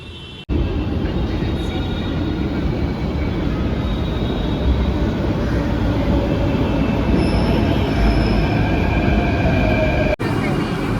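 Loud, continuous rumble and rattle of a Mumbai metro train in motion near Andheri, wheels clattering on the rails with faint squeals, steady throughout.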